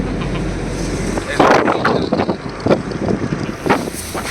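Wind rushes and buffets against the microphone as a car drives along, a loud, gusty roar with uneven surges, and a voice occasionally comes through.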